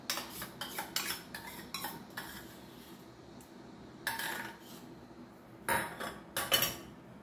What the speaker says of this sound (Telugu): ఇది కూడా అంతా మంచిగా కలిసేటట్టుగా కలిపేసుకుందాం.